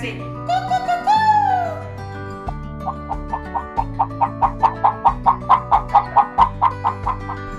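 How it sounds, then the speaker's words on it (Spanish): A hen clucks in a steady series of about a dozen short, evenly spaced clucks after an opening drawn-out call, with soft background music underneath. "Bueno, mira Mario, esta es una gallina y el sonido es cu, cu, cu, cu."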